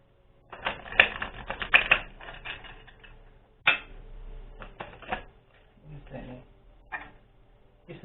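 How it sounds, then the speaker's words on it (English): Tarot cards being shuffled by hand, giving bursts of crisp riffling and tapping clicks that start and stop, close up, with a voice speaking softly between them. "As I'm shuffling"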